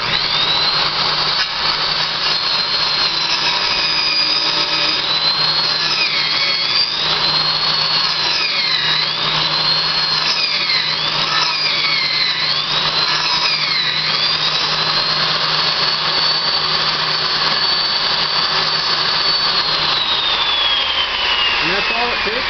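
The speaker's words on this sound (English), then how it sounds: "that's all it takes for the Woodennicol log spindle turning machine to make a spindle for your deck" A Woodennicol log spindle turning machine runs steadily the whole time, a loud, continuous motor whine with a high cutting tone that rises and shifts as it shapes a deck spindle from a log.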